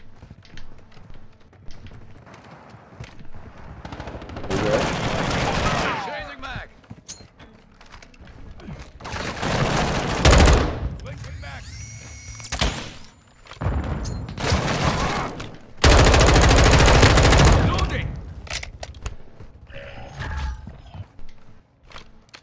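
Gunfire in the Modern Warfare II beta comes in several loud bursts and volleys separated by quieter gaps, with mechanical clatter between them.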